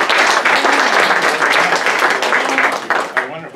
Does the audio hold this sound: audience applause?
yes